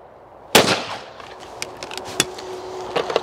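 A shotgun fires once at a going-away clay bird, a loud sharp blast followed by faint clicks and light handling noises.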